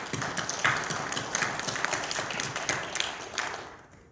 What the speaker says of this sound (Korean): 우리 모두 알아주는 마음으로 힘차게 박수를 보내주시기 바랍니다.